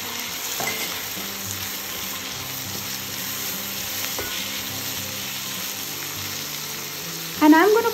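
Chopped onions and tomatoes frying in a pan for prawn pulao, a close, steady sizzle with a few stirring scrapes and a brief clatter near the end.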